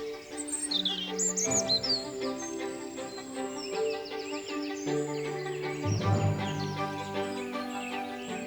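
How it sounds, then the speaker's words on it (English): Birds sing and chirp in a quiet mixed-species woodland in the Wye Valley, several calls overlapping at a moderate distance over a soft, sustained musical backdrop. "Can you hear the birds singing?"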